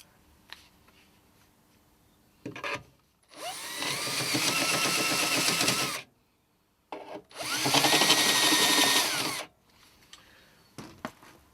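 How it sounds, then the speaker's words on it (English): A cone cutter bit on a power drill eases holes in a battery charger part being renovated, giving two close, loud whirring bursts of a few seconds each, separated by a short pause and surrounded by light handling clicks. "I'll do that with a cone cut, I think, rather than a file"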